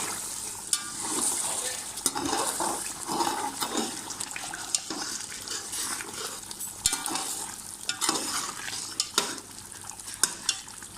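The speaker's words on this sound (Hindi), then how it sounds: "अब इस स्टेज पे हमने जो बची हुई दही थी वो भी सारी डाल देंगे इसके अंदर, थोड़ा सा चला लेंगे" Leftover yogurt stirred into a qorma simmering in a pot, a close, continuous wet scraping and churning with soft sizzling and bubbling under it, steady and alone without voices.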